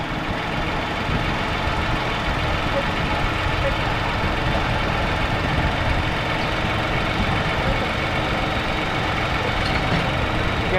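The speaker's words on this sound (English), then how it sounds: "Just keep the car run a couple of minutes and let's see." A 2010 Lexus RX350 idles steadily after an engine oil cooler hose replacement, a low, even engine hum running continuously in a shop, with people talking quietly over it.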